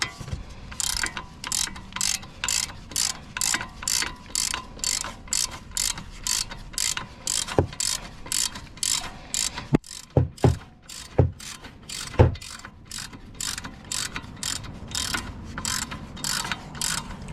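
Rapid, steady clicking of a ratchet with an E14 socket tightening a bolt on a Mercedes CLS front air shock, close and fairly quiet, with a few brief clunks partway through.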